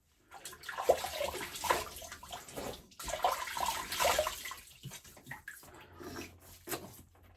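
Water splashes close up as a face is wetted before shaving, with irregular bursts of splashing and dripping that trail off near the end.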